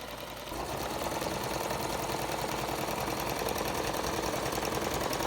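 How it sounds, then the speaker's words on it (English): A sewing machine hems a glued PVC tarp seam for a camper awning, starting up and running in a steady rapid mechanical chatter, close and continuous. "I'm going to go ahead and hem it on the sewing machine just to give it some reinforcement."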